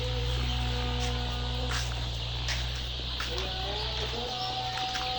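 Kazi Highland Brown layer chickens cluck faintly and intermittently on a poultry farm, buried beneath a loud, steady mechanical hum.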